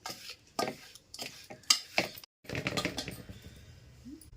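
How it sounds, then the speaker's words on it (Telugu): Salt, mustard, fenugreek powder and chili powder being stirred together for amla chutney, close dry scraping and clinking strokes in irregular bursts, with a brief pause midway. "ఉప్పు, ఆవాలు, మెంతులు పొడి, కారం బాగా కలిసేలాగా కలిపేసుకోవాలి"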